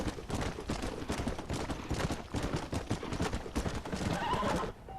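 Rapid horse hooves clatter continuously in a steady galloping rhythm, loud and close, then stop abruptly near the end, in the video game Red Dead Redemption's Undead Nightmare.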